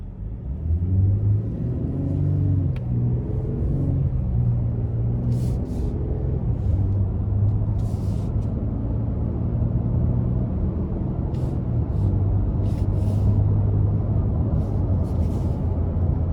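A 2024 Nissan Frontier Crew Cab SV with the 3.8-liter engine pulls up to speed, a steady low engine rumble and road drone heard from inside the cab, loud and continuous without talk.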